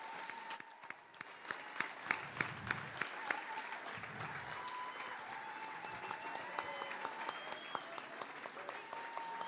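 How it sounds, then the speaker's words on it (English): Sustained audience applause at the LGFA All Stars women's Gaelic football awards ceremony, a dense, steady roar of many hands clapping filling the hall for the whole stretch, with a faint voice briefly audible beneath. "a huge round of applause for Hannah Tyrrell, Senior Players Player of the Year 2025"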